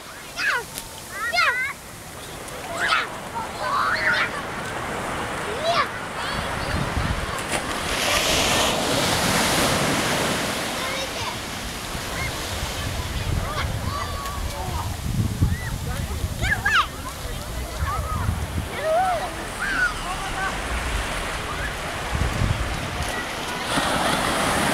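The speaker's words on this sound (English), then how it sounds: "Here comes another big wave." Ocean waves break and wash up on Santa Cruz beach, a rolling surf that swells and recedes under gusty wind buffeting the microphone, with people talking and shouting nearby.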